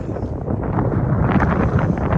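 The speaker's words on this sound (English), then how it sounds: "It's a little windy out here today" Heavy wind buffeting a microphone outdoors near the Las Vegas Strip, a loud continuous low rumble that swells slightly and never lets up, with no voices.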